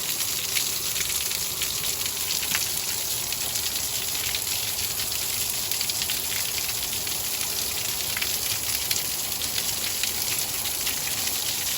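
Rain falling outdoors during hay cutting, a steady broadband hiss of drops on surfaces that holds evenly throughout without pauses.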